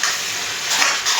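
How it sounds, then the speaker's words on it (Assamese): Onion and spices fry in a pan for a meat-style fish curry, making a loud, close, continuous sizzle over a brief moment with slight stirring swells and no talk. "মাংস ষ্টাইলত পিঁয়াজ মছলা চব ভাজি লৈছোঁ।"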